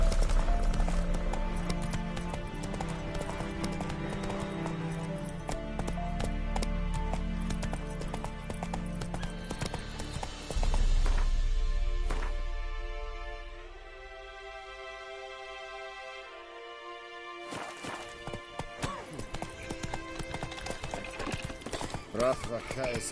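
Horse hooves gallop in a video game, a steady fast clip-clop with occasional whinnies over game music and effects, and a voice is heard speaking.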